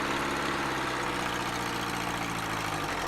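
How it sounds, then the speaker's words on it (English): A small engine powering a budget homemade portable sawmill idles steadily at close range, a continuous low throbbing hum with a faint rattling texture and no voices. "start the engine, and then once I rev the engine up a little bit to about 2000 RPM"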